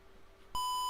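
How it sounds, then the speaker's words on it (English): A ZX Spectrum skiing game gives a sudden steady electronic beep for a missed flag, cutting in abruptly after a quiet hum and holding as a single sustained tone. "that's a beep. That means I've missed it."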